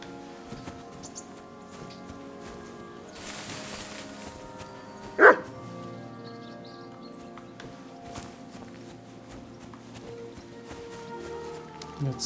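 In the video game Kingdom Come: Deliverance, one dog bark sounds from a distance amid a low ambient hum and soft footsteps, the rest of the scene quiet.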